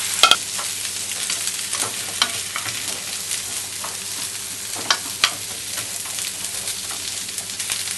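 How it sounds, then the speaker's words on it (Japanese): Carrots and other vegetables fry in butter in a pan, giving a steady close sizzle with occasional sharp pops and stirring scrapes, alone without talk. "これをバターで炒めていきます。 火をつけて、はい、野菜を入れます。"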